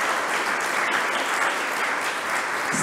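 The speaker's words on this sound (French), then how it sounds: "on peut vous applaudir" After a talk on automotive and fossil-fuel lobbying and the climate, a room full of people claps. The applause is dense and even, holding at a steady level for a few seconds.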